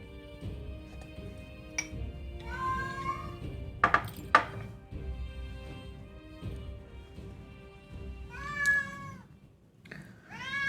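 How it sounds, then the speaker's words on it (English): A cat meows several times, in drawn-out rising calls spread across the stretch, with a couple of sharp knocks in between over a quiet hum, and no voices. "I also hear a cat who's back to their bitching ways."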